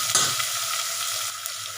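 Tomato sautéing in a hot pan for fenugreek leaf sambar, a steady close sizzle of frying with a brief stir near the start and no voices.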